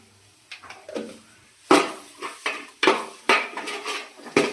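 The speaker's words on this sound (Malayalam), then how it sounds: "ഇതിൻ്റെ പച്ചമണം മാറുന്നത് വരെ നന്നായി ഇളക്കുക" Spiced masala with garam masala stirred in a pan for chicken curry, a spoon scraping and clinking against the metal in irregular sharp strokes, close and fairly loud, with no talking.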